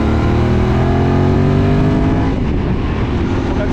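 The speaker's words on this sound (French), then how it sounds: "On accélère, allez, ça se réveille un peu à 6000," A 2025 QJMotor SRT 600 SX motorcycle engine, still being run in, drones loudly and steadily as it accelerates, with rising engine tones heard close up while riding.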